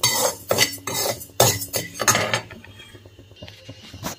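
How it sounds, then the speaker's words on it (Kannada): Rice dry roasting in a pan for sambar powder is stirred with a utensil, making sharp, close scraping and rattling strokes that come in rhythmic bursts, then fade to lighter scratching near the end. "ಮೊದಲಿಗೆ ನಾನು ಅಕ್ಕಿನ ಹುರಿತಾ ಇದ್ದೀನಿ"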